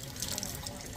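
Hot water poured onto color changing Thomas toy trains, a steady splashing trickle of liquid with a brighter patter and a few drip-like accents over a short second, no talking.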